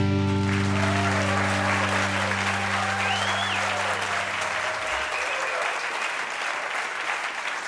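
An audience at an eTown Hall podcast taping breaks into loud, sustained applause welcoming the host, with music fading out under the opening clapping.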